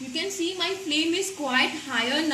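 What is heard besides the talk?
No distinct noise like a dog, phone or traffic.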